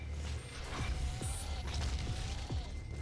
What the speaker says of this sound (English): We're gonna do the Gauss Cannon.